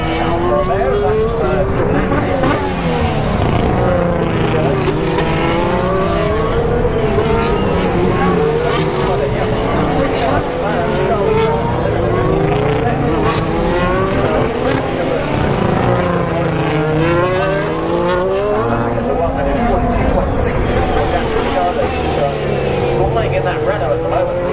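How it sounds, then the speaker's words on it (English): Formula 1 race cars from the 2019 season scream past trackside at Turn 11 one after another, loud high-revving engines rising and falling in repeated pass-bys, with a commentator talking throughout. "That's Ricardo doing a great job. That is Alfa Romeo"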